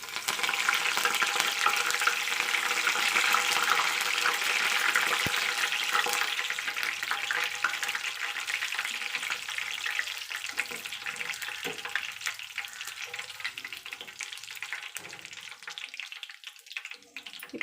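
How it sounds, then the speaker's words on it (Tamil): Curry leaves frying in hot oil after the stove is switched off while making kara boondi, a bright crackling sizzle that starts strong and gradually thins and quiets over the stretch. "ஆஃப் பண்ணிவிட்டு கருவேப்பிலை வந்து இதில் பொரித்து எடுத்துக்கலாம்."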